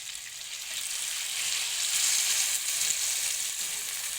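Steady loud sizzling and hissing as water is poured into a hot tempering in a pan for dhokla, a continuous bright frying crackle throughout with no talking.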